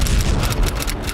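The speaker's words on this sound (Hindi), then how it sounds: "अमेरिका का ये धमाका समंदर के अंदर 3200 फीट की गहराई पर हुआ" An underwater nuclear test explosion set off by the US in 1958, 3,200 feet deep in the sea off the Marshall Islands, gives a brief, loud, rumbling boom with a dense low roar.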